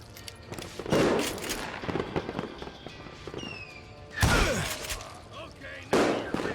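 Gunfire in the western shooter game Call of Juarez: Gunslinger, with sharp shots and ricocheting bursts scattered across the clip, several loud blasts standing out, mixed with game voices and effects.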